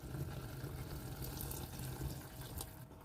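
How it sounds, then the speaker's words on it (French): Potato starch mixed with water pours into a spinach and crab soup. A faint, steady trickle of liquid runs continuously at low volume. "maintenant j'ajoute le liquide de l'eau avec fécule pomme de terre"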